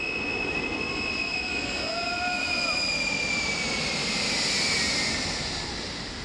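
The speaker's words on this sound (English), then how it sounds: "When the plane did arrive," A passenger plane arrives overhead, its steady engine roar and high whine building toward the end.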